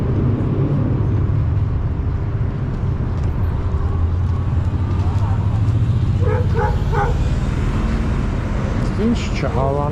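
On a Yerevan street, a dog gives a short run of barks and yips over a steady roar of passing traffic, with people talking nearby.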